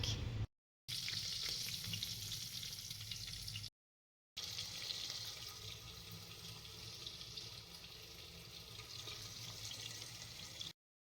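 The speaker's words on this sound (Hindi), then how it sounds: "अभी मैंने ऑयल में मटर आलू सब कुछ डाल दिए है, हिलाया है थोड़ी सी देर।" Peas and potatoes fry in hot oil, giving a continuous close hissing sizzle with occasional stirring and two short gaps of silence, no talk.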